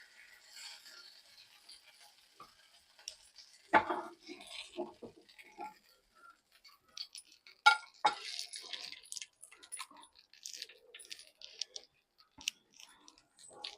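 Light clinks and scrapes of Mangalore fish tawa fry being served from the pan onto a plate, with scattered soft taps of utensil on metal and ceramic, fairly quiet and irregular.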